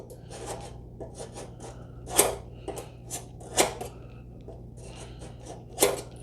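A scribe scratches a line on a motorcycle rear fender for a Shovelhead build, giving a series of short, close rasping strokes over a faint steady background hum.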